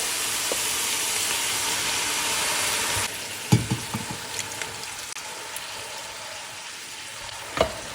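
Loud, dense sizzle of a pan frying before two cans of Italian style diced tomatoes go in, then softer bubbling with several clunks and splats as they land and settle.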